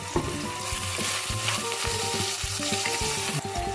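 Spinach is stirred in a hot pan, with a loud continuous sizzle of frying and regular scraping, knocking strokes of a utensil against the pan, close up and without talk.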